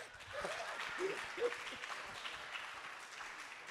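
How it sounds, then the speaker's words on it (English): Audience applause at a lively Black History celebration event, a steady wash of clapping holding for several seconds at moderate level with a few louder claps, mixed with faint crowd voices. "y'all should be giving me a round of applause"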